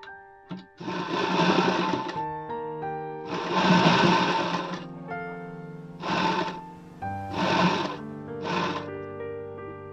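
A sewing machine runs a round top-stitch on a princess-cut blouse in close, loud bursts: two long runs followed by three shorter ones, separated by brief pauses.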